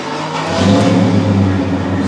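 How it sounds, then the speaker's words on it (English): A car with its gear shifter stuck in park has its engine running and revving, a loud, close hum that swells in the middle and eases back, heard alone. "even you start the engine"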